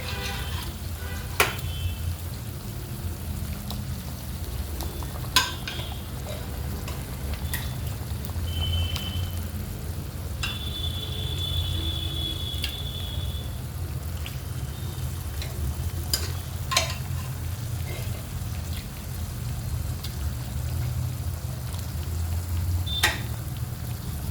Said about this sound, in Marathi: आपण यात चिकनचे पीस टाकून घेणार आहोत